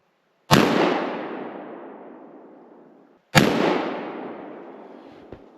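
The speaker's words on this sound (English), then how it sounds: "First time ever shooting shotgun, so should be interesting." Two loud shotgun blasts fired outdoors on an early spring rabbit hunt in Ontario, each a sharp crack with a long rolling decay, roughly three seconds apart.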